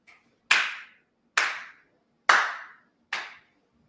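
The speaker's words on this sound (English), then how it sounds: "You hear that clap way in the back." One person claps slowly four times from somewhere at the back of the room. Each clap is sharp and isolated and rings out briefly into the quiet.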